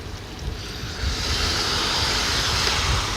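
Water is poured into a hot cooking pan of spiny gourd, bringing a sudden rise of steady, broad hissing and sizzling that carries on evenly at close range.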